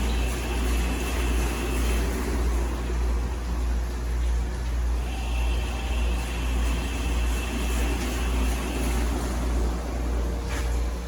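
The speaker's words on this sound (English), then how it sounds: "The wash machine is trying to spin." An Avanti TLW 21D2P portable washing machine drains its water and strains to spin, giving a steady, loud, low rumbling drone with a constant hum that holds unbroken for the whole stretch.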